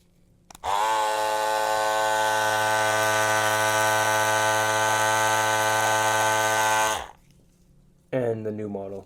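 An older Andis Master hair clipper runs steadily at close range for about six seconds, a loud, even motor buzz with a strong hum, starting and stopping abruptly, followed by a brief voice.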